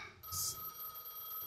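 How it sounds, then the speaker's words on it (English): A phone rings in the video game Gas Station Simulator, a short electronic telephone bell burst over a steady tonal hum, faint and alone without talk. "Let's answer the phone."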